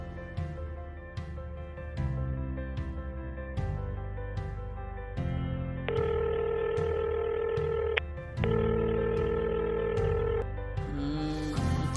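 A mobile phone call is placed from a bakery: quick dialing beeps give way to repeated ringback tones that pulse at a steady rhythm, heard clearly over a continuous low musical background.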